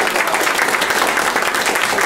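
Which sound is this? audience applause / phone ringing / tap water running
audience applause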